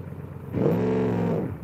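A drag car engine in BeamNG.drive roars up in a sustained rev, holding a steady growling pitch for about a second before easing off.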